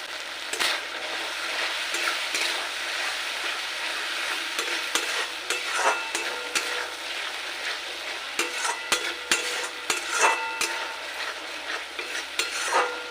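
Spice paste of ginger, garlic and green chilli with salt and chilli powder frying in a pan, a continuous sizzle broken by frequent scraping strokes of a stirring spoon, close and alone.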